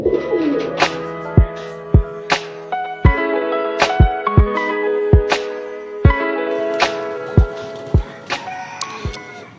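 Pigeons at a fancy pigeon farm in West Bengal, a high flyer pair, give repeated rhythmic cooing calls close by, with sharp wing claps or taps sounding at regular intervals throughout.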